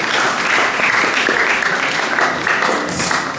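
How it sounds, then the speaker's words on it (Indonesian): A seminar audience at a religious moderation event in Kupang claps steadily, a dense, loud round of applause that fills the room without pause. "Sekali lagi kita beri tepuk tangan untuk kita semua pada hari ini."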